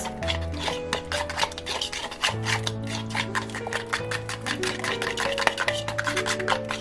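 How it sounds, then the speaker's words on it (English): A utensil scrapes and mixes an egg into mashed banana for protein pancakes in a bowl, making quick, steady rubbing strokes with a rhythmic tick, accompanied by a faint, steady background hum. "we're going to mix the egg with the banana"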